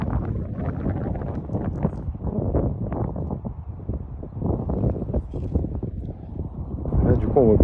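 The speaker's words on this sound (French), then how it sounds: "Il y a un peu de vent." Gusty wind buffets the microphone at a canyon overlook in the American West, a steady low rumble filling the clip that swells louder near the end, with a voice speaking over it.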